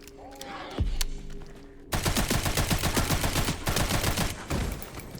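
Rapid automatic gunfire in the video game Resident Evil Requiem, a sustained loud burst of closely spaced shots with a brief pause near the end, preceded by an isolated single shot.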